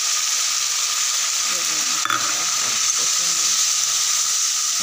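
Onions frying in a pan for a pabda fish masala give a steady, broad sizzling hiss throughout, with a brief clink near the middle and faint voices murmuring underneath.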